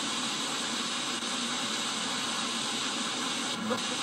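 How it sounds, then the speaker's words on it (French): Steady, dense hiss of radio-like static with a reverberant wash, continuous and fairly quiet, with no clear voice. "Là, vous entendez le reverb qui est dans ma box"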